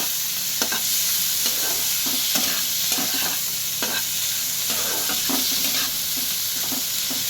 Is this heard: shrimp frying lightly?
yes